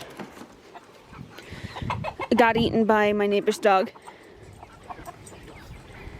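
A rooster crows loudly in a short harmonic burst at close range, with scattered clucking from farm chickens around it, while a person talks before and after.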